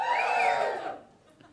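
A comedy-show audience cheering and whooping together, a loud burst of crowd voices that fades away within about a second.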